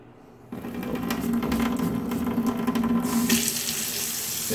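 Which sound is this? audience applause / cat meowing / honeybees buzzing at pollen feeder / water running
water running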